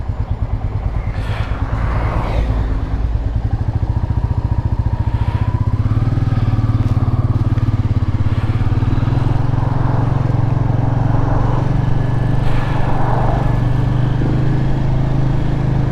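A Royal Enfield Meteor 350 motorcycle engine runs steadily while riding, giving a loud, close, continuous thumping drone with slight swells, joined by wind rush and no talk.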